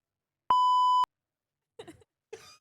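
A single censor bleep, a pure electronic tone held for about half a second, followed by two brief bursts of speech.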